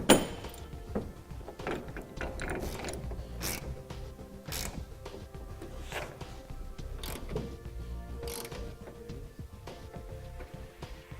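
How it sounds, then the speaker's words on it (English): Center clamps for a RetraxPRO MX hard tonneau cover on a 2009 Chevrolet pickup bed are fitted with scattered metallic clicks, ratcheting and knocking clunks at close range, with no talk. "Now let's install our center clamps, and these go on just the same way as the others."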